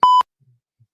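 A single short electronic beep from a pressed button, a clean steady tone lasting about a fifth of a second, loud and close, followed by silence apart from faint low thumps.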